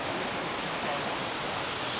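A cold jungle river flows in a dense, steady rushing roar, close and continuous without a break.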